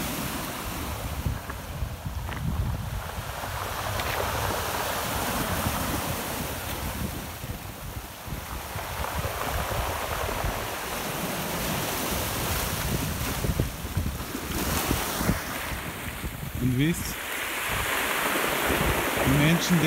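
Sea surf rolling onto a shore, a steady broadband wash with swelling surges and wind buffeting the microphone, continuous and fairly close throughout.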